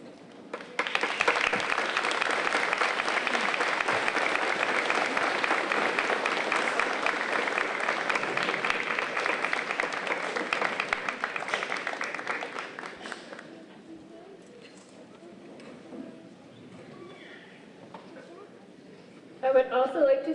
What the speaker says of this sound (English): I'd like to ask my fellow graduates to join me in standing to honor and applaud those who sacrificed so much for us.